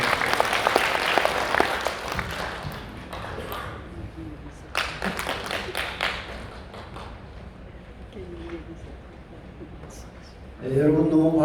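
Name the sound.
audience applause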